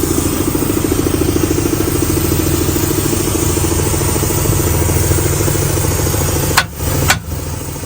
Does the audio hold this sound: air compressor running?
yes